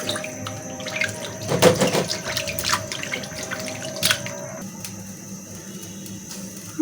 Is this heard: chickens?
no